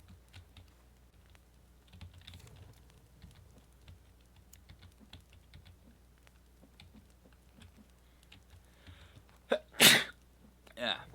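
A single loud, sharp sneeze near the end of the clip over quiet computer keyboard typing and faint ticks during a co-op session of the survival game The Forest.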